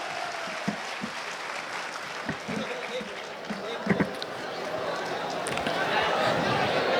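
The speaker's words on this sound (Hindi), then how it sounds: "तालियां बजती रहनी चाहिए।" Applause at a Kushwaha Mahasangam political gathering, moderate clapping from a crowd that swells toward the end, with a few sharper thumps and an announcer's voice over it.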